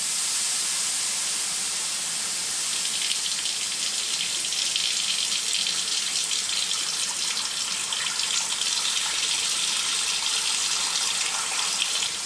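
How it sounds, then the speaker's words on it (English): Cold tap water pours steadily from a kitchen pot filler, a constant close hissing rush that holds unbroken for the whole stretch with no voices. "Okay, I'm just going to add some cold water."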